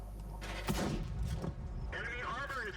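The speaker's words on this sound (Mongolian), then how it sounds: "Дээрээс угаас тонгоож ирж буудаад байна." Video game gunfire cracks out in a few sharp, heavy shots during a military-style match, with players talking over the bursts.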